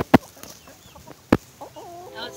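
Chickens cluck in short, close bursts between a couple of sharp knocks, with no talking over them.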